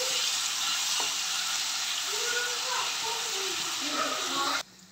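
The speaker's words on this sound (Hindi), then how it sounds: "अभी इसमें मैं एक चम्मच लहसुन और अदरक भी डालूँगी" Garlic and ginger fry in hot oil with roasted cumin, giving a loud, dense, continuous sizzle and hiss close by that cuts off abruptly near the end. A few faint tonal sounds drift underneath.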